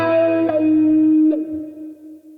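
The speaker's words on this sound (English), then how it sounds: "I like using plate reverb, so I'm going to keep it on the green here" A sustained distorted electric guitar chord through a Boss Katana-100 amp with plate reverb rings out, shifting once and decaying with a smooth reverberant tail, alone without talk.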